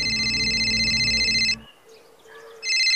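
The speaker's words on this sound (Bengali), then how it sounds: "সে সময় আচমকাই পকেটে মোবাইল ফোনটা বেজে উঠল" A mobile phone ringing, a loud electronic ringtone heard close up for about a second and a half, breaking off, then starting again.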